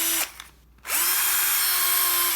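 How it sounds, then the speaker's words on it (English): A small used Bosch mini drill whirs loudly, stops briefly, then spins back up and runs steadily at close range with a high, even motor whine. "But it's still working just fine. Comes with the charger, little Bosch mini drill."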